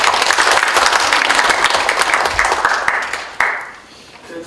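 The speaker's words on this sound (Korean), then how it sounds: "박수 한번 힘차게 쳐주시겠습니다" An audience at the opening ceremony of an academic conference on therapeutic horseback riding gives dense, loud applause that fades out over a few seconds.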